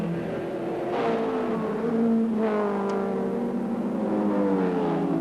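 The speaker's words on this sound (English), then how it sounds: "Bondi up on the inside of the Foodtown Commodore going to the top of the hill" Touring race cars accelerate uphill during a 1991 Amscar series round, a Foodtown Commodore among them, engines loud and steady with rising and falling pitch as gears change, several cars close together.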